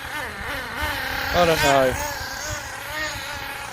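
Nitro engine of an HPI Firestorm 10T RC truck with a worrying carburetor, buzzing and revving up briefly to a higher whine before settling, running under a voice.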